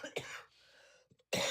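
A person with Parkinson's coughs loudly and sharply near the mic, with a brief throat sound and a second strong cough following a short pause; no speech is heard.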